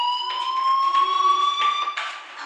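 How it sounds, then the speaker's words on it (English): A fire alarm in the Life is Strange video game rings loudly and continuously, a steady electronic wail that holds its pitch for the whole stretch. "Hey, do you hear that fire alarm?"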